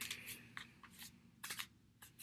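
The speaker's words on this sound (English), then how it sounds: "so I'm going to shuffle." A deck of playing cards being shuffled by hand, brisk riffling bursts in irregular clusters, close and fairly quiet with no talk.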